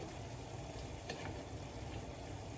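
Chicken and pineapple frying in a pan, a steady close sizzle with a faint clink of stirring partway through.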